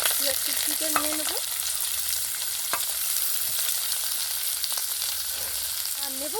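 Sliced onions with chopped ginger frying in hot oil give a steady, close sizzle throughout, with faint clicks and bits of voice underneath.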